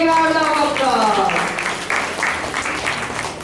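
Audience applause at a children's school show at Chitrakoota School in Bangalore, a broad wash of clapping that rises after a sung passage and carries on steadily, mixed with voices.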